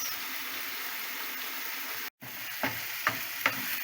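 Fried rice with soy sauce sizzles quietly in a pan, a faint steady hiss that breaks briefly and then returns with a few soft stirring scrapes.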